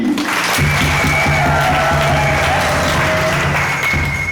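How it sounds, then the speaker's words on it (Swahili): A church congregation at a Catholic mass for lectorship and acolyte ministries claps for its ministry groups, producing steady, dense applause for the whole stretch, with some crowd murmur mixed in. "tuwapigie makofi mengi"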